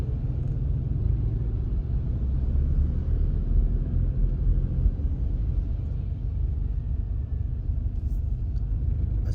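Steady low rumble of idling and slowly moving vehicle engines in a traffic jam in Vientiane, Laos, a continuous deep drone of traffic without breaks.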